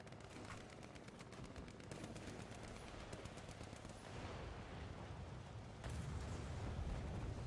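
Gunfire from a Leopard main battle tank in a video game, with dense rapid bursts and booming impacts over a continuous loud battle rumble that grows heavier near the end.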